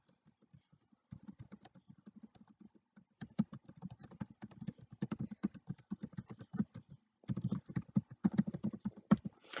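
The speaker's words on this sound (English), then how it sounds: "I can't type and talk at the same time." Typing on a computer keyboard, with rapid, irregular clusters of soft key clicks in quick bursts separated by brief pauses, close and fairly quiet with no talking.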